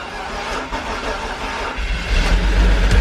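A swapped engine cranks and catches in a car low on coolant, sputtering at first before settling into a rougher, louder rumble near the end.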